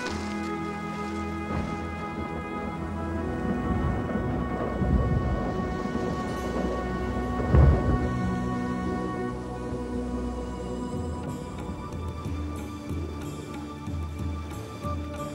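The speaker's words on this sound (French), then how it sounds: "Attendons que la tempête soit passée." A thunderstorm at sea, steady heavy rain roaring throughout with rolling thunder rumbling underneath and one louder crack near the middle, no voices.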